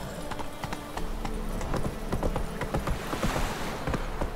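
Horse hooves clip-clopping at a steady gallop in The Witcher 3, a continuous rhythmic run of thuds carrying across the whole stretch, fairly loud and without talk.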